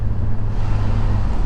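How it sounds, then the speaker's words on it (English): A Nissan 350Z's engine drones loud and close during a time trial run, giving a steady low rumble with no talk over it. "Oh, this car sounds so good."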